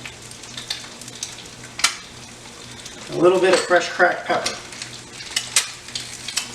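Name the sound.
egg frying in a pan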